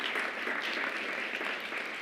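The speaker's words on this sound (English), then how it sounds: "please, huge round of applause for yourselves" A conference audience claps together in a room, a thick, continuous patter of many hands at steady strength from start to finish.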